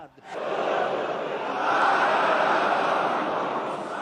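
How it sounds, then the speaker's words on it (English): A large crowd at Friday prayers in Tehran chants in unison, a loud, sustained roar of many voices filling the whole stretch without a break. "Death to America, responded the crowd."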